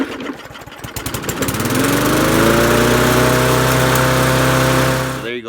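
An MTD push lawnmower engine, freshly fitted with a replacement carburetor, sputters to life and settles into a loud, steady running drone before cutting off at the end.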